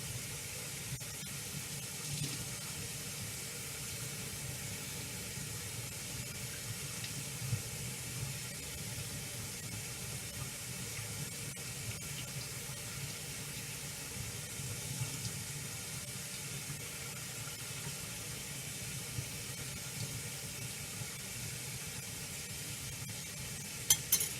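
Warm tap water runs steadily into a container, a continuous even rush of flow that holds at the same level throughout with no talking.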